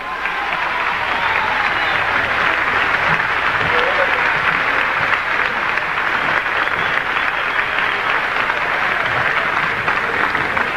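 Sustained roaring applause and crowd noise at a 1980 salsa concert in Caracas, thick and loud throughout, with cheering voices mixed into the steady clapping.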